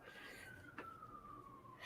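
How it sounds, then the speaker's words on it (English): A distant ambulance siren wails faintly through a city, a thin steady tone drifting slowly downward beneath a low background hum. "That's an ambulance"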